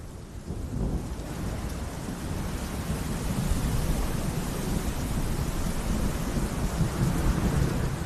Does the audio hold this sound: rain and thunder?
yes